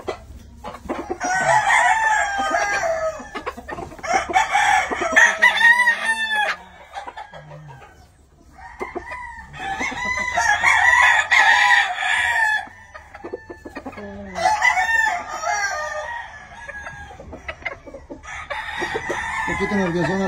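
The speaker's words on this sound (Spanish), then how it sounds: "Un poquito nervioso a la gallina, pero ahí están." Hens clucking and roosters crowing on a California poultry farm, repeated loud overlapping crows and agitated clucks in bursts with short quieter gaps, close by.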